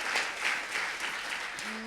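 A conference audience gives presenters a round of applause, dense and continuous clapping from a room full of people at moderate distance, with a brief tonal hum entering at the very end.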